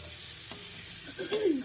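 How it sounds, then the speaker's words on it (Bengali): Leafy greens sizzle and fry in a pan in a home kitchen, a soft steady crackle with a brief scrape of stirring near the end, no voices. "এখানে করছি আমি শাক ভাজা"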